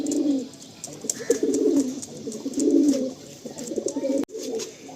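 Pigeons in a pigeon loft coo continuously, with low throaty burbling calls repeating close by, overlapping and rising and falling, plus a sharp knock near the end.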